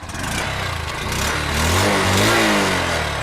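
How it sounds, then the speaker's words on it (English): A 2022 Honda C125 Super Cub engine revs in neutral, climbing from a close, loud idle into a rising rev and then easing back, heard alone with no talk. "Put in neutral so we can rev it."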